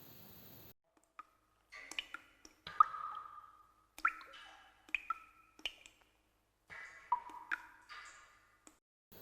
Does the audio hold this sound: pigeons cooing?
no